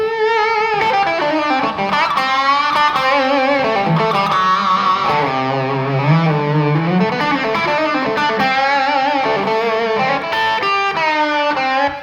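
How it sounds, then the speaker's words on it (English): Electric blues guitar through a distortion effect, playing sustained bent notes and chicken-picking licks, loud and close, with no talking over the steady gritty tone. "I would add distortion, which I will do right now."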